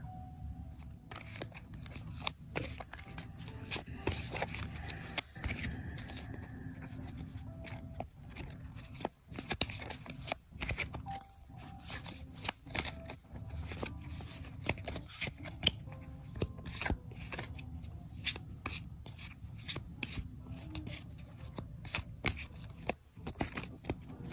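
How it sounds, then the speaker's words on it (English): Tarot cards are shuffled repeatedly, with crisp riffling and flicking bursts alongside soft handling rustles, close and steady throughout. "I have not shuffled yet, so I will shuffle on camera"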